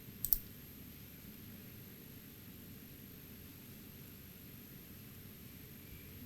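A single sharp mouse click near the start, alone over a steady low hiss of background noise.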